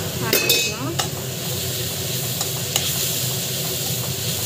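Spices fry with a steady, close sizzle in a pan as a spoon scrapes and stirs through them, with a few sharp clinks of metal against the pan near the start. Salt and chili powder are being added.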